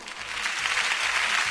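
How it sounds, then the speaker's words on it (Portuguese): Studio audience applause on a Brazilian radio talk show, a steady dense clatter of clapping hands sustained at moderate level throughout with no voices. "tem os aplausos aí já"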